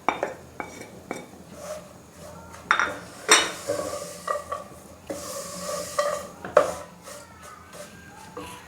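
Dry fruits tipped into vermicelli roasting in a pan for kimami sewaiyan, with a metal spoon clinking and scraping against the pan over a faint sizzle, no speech.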